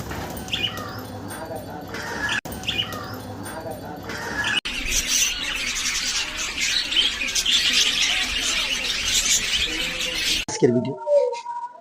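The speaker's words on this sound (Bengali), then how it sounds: "আমার পিছনে দেখুন অনেকগুলো পাখি আছে" Many caged pet birds chirping and calling together in an indoor aviary, a dense steady chatter throughout with someone talking over the first part.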